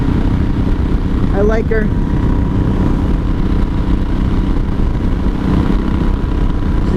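A 1983 Honda Shadow VT750C V-twin with open straight pipes runs loud and steady, its close continuous rumble filling the whole stretch while someone speaks briefly over it.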